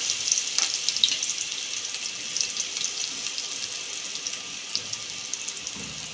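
Onions fry in hot oil seasoned with asafoetida and cumin, a continuous bright crackling sizzle that stays fairly even throughout, close and moderately loud with no voices.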